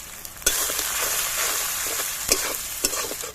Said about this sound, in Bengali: পেঁয়াজটা লাল লাল হয়ে ভাজা হয়ে গেছে।